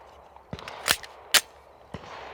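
A handgun is loaded at a shooting bench: a few sharp metallic clicks and clacks, nearby and spaced irregularly over a quiet background.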